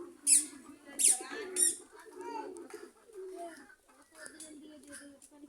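Guinea fowl at a rural homestead give sharp, loud, repeated calls in three close bursts, then fainter calls follow as a person talks nearby.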